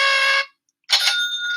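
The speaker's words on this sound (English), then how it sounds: "There's a bell." Two short metallic bell rings, each a bright sustained chime with a gap between, heard alone and close.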